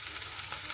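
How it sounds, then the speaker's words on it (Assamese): Mowa fish frying with onion and leaves in a pan, a steady soft hiss of oil carrying on evenly throughout the short stretch, with no talking. "মই মাছখিনিও ভাজি ল'লোঁ,"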